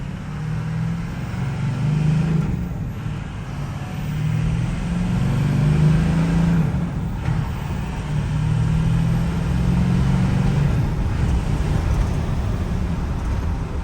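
A factory race truck with a manual gearbox pulls hard in first gear, its engine droning loud and steady close by, with the pitch swelling and easing through the run.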